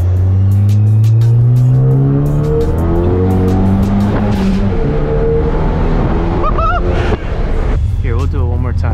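A stage 2 Ford Focus ST accelerates hard, its engine note climbing steadily through the gears with brief breaks at each shift, loud and close, with a faint tire chirp near the end.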